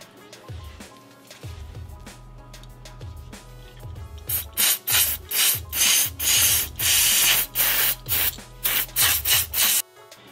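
Repeated rubbing strokes cleaning a Yamaha XT250 front brake pad shim, quiet at first, then a close series of loud rhythmic scrubbing bursts in quick succession before stopping.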